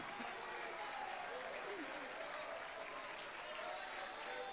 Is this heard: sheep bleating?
no